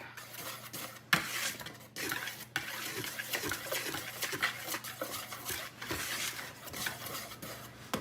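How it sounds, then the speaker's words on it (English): Cake batter with ground cloves whisked steadily in a bowl for a fresh apple cake, a continuous rapid scraping and ticking of the whisk against the bowl, close and even, briefly pausing twice. "So I'm going to whisk that up"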